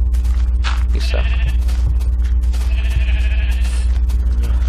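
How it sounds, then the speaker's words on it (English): Sheep in a video game bleat twice, each call loud and close with a nasal, wavering tone. Both sit over a steady low hum, with a brief pause between them. "Dang, that is too many sheep."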